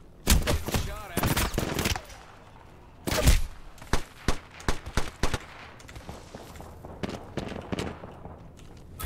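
Gunfire in Apex Legends: clusters of loud, sharp automatic bursts and single shots, dense at first, then sparser bursts and pops trailing off, with a brief spoken remark in between.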